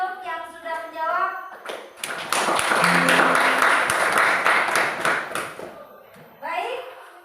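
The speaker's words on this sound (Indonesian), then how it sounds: "terima kasih, tepuk tangan untuk yang sudah menjawab" A classroom of students breaks into a burst of hand clapping lasting a few seconds, with a teacher's voice just before and after it.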